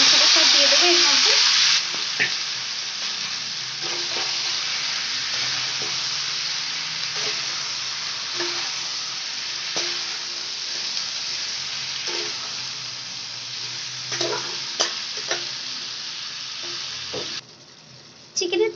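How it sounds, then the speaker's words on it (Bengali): Marinated chicken and potatoes fry in hot oil in a wok, giving a loud, steady sizzle with intermittent stirring clatter, then a short lull near the end. "কড়াইয়ের মধ্যে তেল দিয়ে দিয়েছি, ব্যাস এবার মাংসটা সব দিয়ে দেবো এর মধ্যে।"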